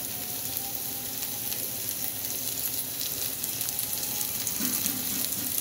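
Curry leaves frying in a pan with onions and garlic for chilli paneer, a continuous close sizzle and crackle with faint stirring clatter, no talking.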